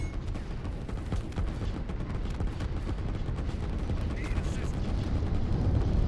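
A rocket strike hitting enemy structures in a 2 vs 2 real-time strategy game, with dense rumbling explosions and crackling blasts rolling continuously and building slightly louder toward the end.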